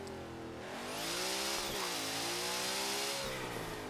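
A '55 Chevrolet Bel Air in Forza Horizon 3 revs with a loud rising turbo spool: a whining, building engine note climbs, dips briefly midway, then swells again. No voices.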